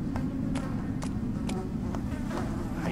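Flies buzzing in the horror video game Amy, faint repeated insect whines over a steady low background drone, with no talking.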